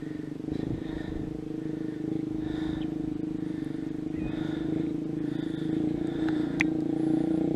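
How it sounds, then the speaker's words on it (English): A steady low motorcycle engine drone holds throughout and grows slightly louder toward the end as the motorcycle approaches from a distance. "you can hear a motorcycle in the distance"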